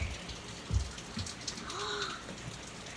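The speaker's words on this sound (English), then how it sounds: "we'll show them the rain right now." Heavy rain pours outside as a dense, steady hiss of drops on surfaces, with scattered louder splashes and a faint passing tone in the background.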